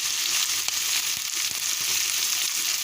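Stew chicken with browning sauce bubbling in a pot, a dense steady sizzle with a few faint taps of a spoon as it is stirred, close and even.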